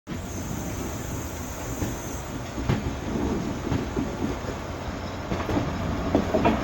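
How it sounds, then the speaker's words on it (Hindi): The Magadh Express pulls out of Kanpur Central station, a steady rolling rumble of the train with faint wheel clatter and an occasional sharper clank, heard from on board throughout. "हम कानपुर सेंट्रल रेलवे स्टेशन के प्लेटफॉर्म नंबर 2 से डिपार्ट कर रहे हैं।"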